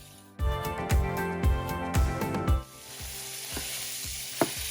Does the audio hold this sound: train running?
no